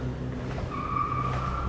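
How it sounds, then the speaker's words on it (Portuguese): Police car tires squeal somewhere outside, heard indoors as a distant, brief high screech rising over a low rumble of engine and room noise, with no talking. "esses barulhos que você escuta de pneu de carro é as viaturas"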